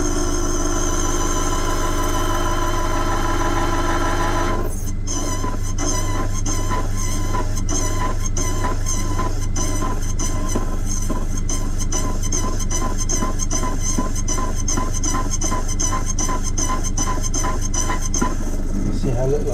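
A Cyclone key cutting machine runs with a steady motor drone and rapid rattling cuts against a key blank, close and continuous for the whole stretch, with no talk.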